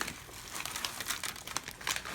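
A bag of seasoning blend with onions, celery, red and green pepper and parsley flakes crinkles steadily as it is poured, a close, continuous rustle with sharper crackles.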